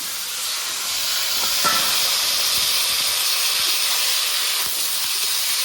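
Ridge gourd dropped into hot oil in a pan, a steady broadband sizzle that rises at the moment of adding and holds loud and continuous with no talk over it.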